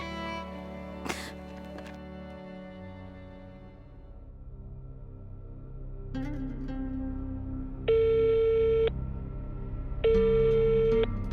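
An unanswered telephone call gives two long, steady ringback tones spaced a couple of seconds apart, clear over a soft musical bed in a drama scene.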